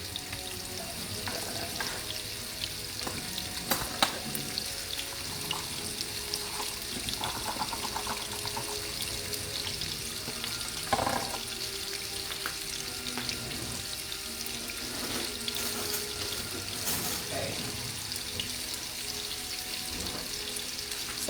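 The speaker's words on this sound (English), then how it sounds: "all I'm doing now is just pan frying the salmon, just enough to get it brown on one side" Salmon pan frying to brown one side: a constant, close sizzle and crackle, with occasional clatters and stirring sounds rising briefly above the steady frying hiss.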